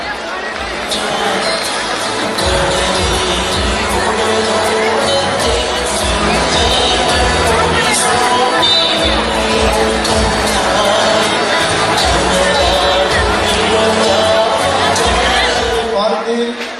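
A large audience at a festival thanksgiving function applauds award recipients, dense continuous clapping mixed with crowd chatter and murmuring that stays loud and steady throughout.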